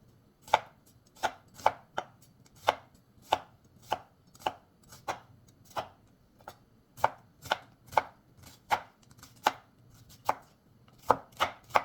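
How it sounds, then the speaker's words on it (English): Onions are chopped with a knife on a board in steady, evenly spaced strokes, about twenty crisp close knocks at a regular rhythm, heard alone without any talk. "How many of you cry when you're chopping onions?"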